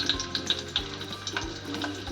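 Chopped onion frying in two to three spoonfuls of hot oil for Marathi tomato saar, a soft steady sizzle with light stirring clinks and taps close by.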